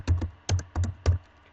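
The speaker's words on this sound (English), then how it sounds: "I'm very, very good at typing." Keys on a computer keyboard clack in four quick, close taps with brief gaps, clear and alone.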